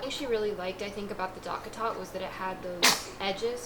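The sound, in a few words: sneeze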